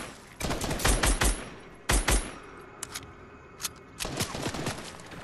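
Gunfire in Fortnite comes in bursts of rapid shots, loud and close, separated by short gaps and a few single cracks, with no voice over it.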